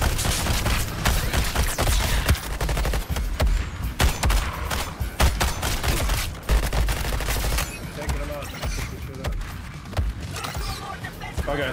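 Dense, continuous gunfire and explosive thuds in the Suicide Squad: Kill The Justice League game, loud rapid shots layered over booming impacts throughout, with chaotic combat noise and occasional speech mixed in.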